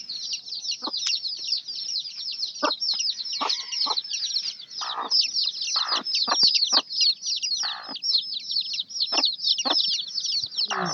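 Hen with her young chicks outdoors on grass, dense continuous high peeping from the chicks with scattered low clucks from the hen, near and lively throughout.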